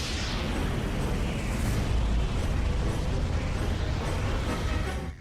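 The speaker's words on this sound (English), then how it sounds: "the Big Bang" A Big Bang explosion effect: a sustained, loud, roaring blast with deep rumble and crackling texture, filling the scene for several seconds before cutting off.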